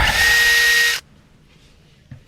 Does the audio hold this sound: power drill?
yes